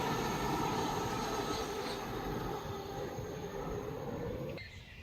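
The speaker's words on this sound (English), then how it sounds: "And now approaching, getting in close by, is 1 Charlie 42, the 1617 Southeastern high-speed service from St Pancras International" A Southeastern high-speed service from St Pancras approaches on the line near Newington, producing a continuous rushing roar of wheels and motors that fades slightly before cutting off, heard at a moderate distance.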